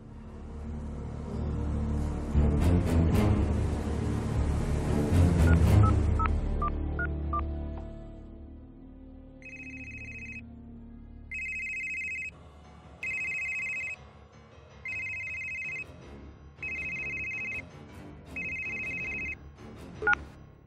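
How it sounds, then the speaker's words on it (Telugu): A telephone being dialed: a burst of low rumbling noise, then a series of clear dialing tones and repeated ringing beeps in steady on-off bursts, with no one speaking. "నివేదిత మేడంకి ఫోన్ చేయండి"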